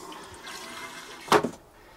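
A Dometic RV toilet flushes in one short rushing burst of water that swells and fades within about half a second, heard alone against a quiet room.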